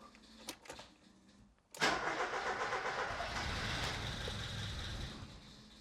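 A Ford Escort XR3i cabriolet is cranked: quiet rattles, then the starter engages and the engine churns loudly and continuously for several seconds without catching, close and alone.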